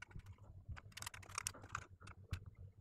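Keys on a Commodore C64 keyboard are pressed during a keyboard test, producing quick irregular clicks and taps, close and quiet, with no speech.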